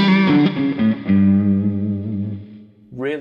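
An electric guitar played through a Victory Sheriff amplifier into Two Notes Copper DynIR speaker cabinets rings out in smooth, sustained notes that slowly decay, followed by a freshly struck note at the end.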